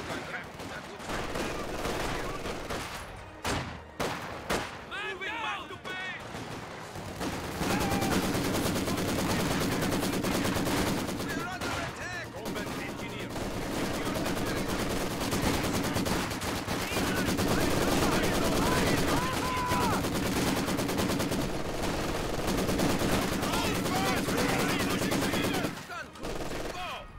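Machine gun fire rattles in rapid bursts amid a battle in the strategy game Company of Heroes 2, loud and dense with overlapping gunshots and shouted soldier voices, steady through the whole stretch.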